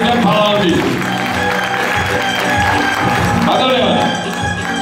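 A concert audience in Kutaisi claps loudly and continuously while a host speaks over the applause and music plays.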